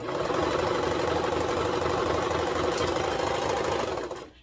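A sewing machine with a cutting knife runs steadily along a shirt seam, a close, continuous mechanical whir that holds for about four seconds before stopping.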